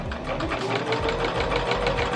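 A sewing machine runs a steady, continuous stitch along elastic on a tank top. The mechanical whir is loud and close and carries on without a break, with no voices.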